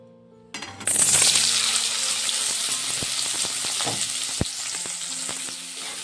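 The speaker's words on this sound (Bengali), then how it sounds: "প্রথমে কড়াতে তেল দিয়ে দিলাম। এখন দিয়ে দেব সেদ্ধ করে রাখা আলু।" Boiled potatoes drop into hot oil in a wok and set off a sudden loud sizzle that gradually settles into steady frying. Occasional knocks and clinks from stirring come through, with no voices.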